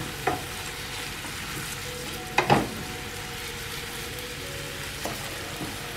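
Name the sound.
onions caramelizing in a frying pan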